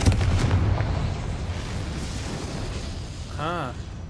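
A Confringo explosive spell goes off in the video game Hogwarts Legacy, a loud, deep booming blast that rumbles and fades over a few seconds, followed by a brief warbling whoosh.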